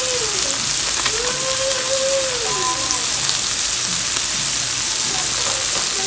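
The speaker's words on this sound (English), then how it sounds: "we're gonna leave this to like fry for a little bit" Shrimp seasoned with sazon fry in a pan with a loud, even crackle and sizzle held close to the mic, and brief whistling tones drift faintly underneath.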